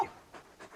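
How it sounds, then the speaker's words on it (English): A large dog pants in Final Fantasy XVI, three quick breathy huffs in a soft steady rhythm, close but faint and heard alone. "You're just a big puppy, aren't you? A very big puppy."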